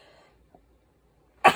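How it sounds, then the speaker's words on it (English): A single short, loud sneeze bursts out at the very end after near silence, close to the listener and alone, with no talking. "I'm gonna sneeze."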